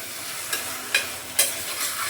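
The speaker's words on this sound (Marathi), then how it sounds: "मी असे चणे मस्त परतून घेतले" Continuous sizzling of chickpeas frying in oil with ground spice paste, with periodic scraping strokes of a spatula stirring the pan.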